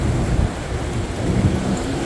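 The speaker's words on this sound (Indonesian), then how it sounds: "Ini anginnya lumayan gede. Kayaknya mau turun hujan." Strong gusty wind roars steadily outdoors ahead of rain, a dense low rumble with no voices over it.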